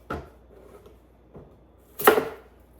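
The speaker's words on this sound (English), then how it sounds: "Cutting onions will never be my favorite thing." A knife chops onions on a board in three separate strokes, the last one loudest and sharpest, close up with quiet gaps between and no talking.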